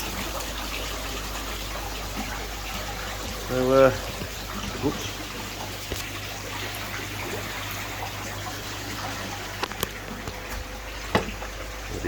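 Water trickles and splashes steadily through a homemade 25-litre trickle tower, a faint continuous stream with a brief louder gush, while someone talks quietly over it.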